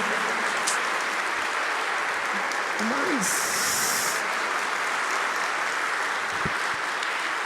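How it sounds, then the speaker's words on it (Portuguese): A standing audience at a traffic forum in Amazonas, Brazil gives sustained applause, a constant dense roar of clapping with hiss-like texture and a brief whistle or cheer rising above it. "Agora uma salva de palmas especial para ele,"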